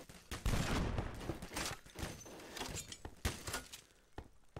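A heavy blunderbuss blasts in Garry's Mod, a dense burst of booming shots with bright transients, near and loud, followed by a few scattered later reports, with no talk over it.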